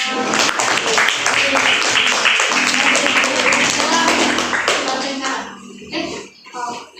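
Applause and clapping from students in an eighth-grade Islamic religious education classroom: a dense, steady burst of hands for about five seconds that fades into scattered claps and murmuring voices.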